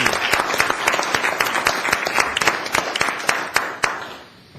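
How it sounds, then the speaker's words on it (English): A crowd applauding with brisk, dense clapping that holds steady for several seconds, then fades out quickly. "Let's give them another round of applause."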